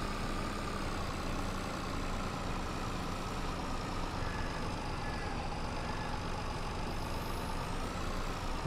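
A heavily loaded tractor in the Farming Simulator 22 video game labours up a steep slope with its engine running at maximum horsepower. It gives a steady, dense, low growl that holds at an even loudness throughout, with no talking.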